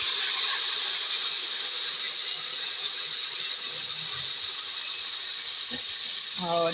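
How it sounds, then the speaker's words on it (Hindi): A small splash of water poured into garlic, ginger and spices frying in a pan for nehari, giving a steady loud hiss and sizzle throughout, with a few faint clinks near the end. "अभी हम इसमें हल्का सा पानी डाल रहे हैं"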